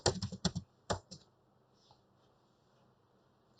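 Computer keys tapped in quick bursts while typing in a command prompt, close and crisp for about a second, then near silence with a faint click.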